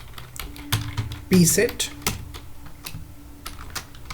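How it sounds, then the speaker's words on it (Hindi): Computer keyboard typing in short bursts of clicky keystrokes, close and moderately loud, while someone speaks over part of it and a low steady hum sits underneath. "तो यहाँ पर हम टाइप करते हैं"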